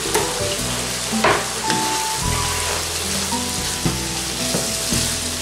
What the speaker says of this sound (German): Ja, unsere Pfanne brutzelt.